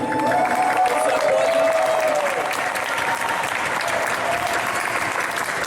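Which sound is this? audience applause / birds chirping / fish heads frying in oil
audience applause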